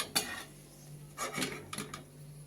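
Roasted grated coconut being scooped out of a pan with a metal spoon for a puffed-rice chivda, a few soft scraping and clinking touches at close range with quiet gaps between them.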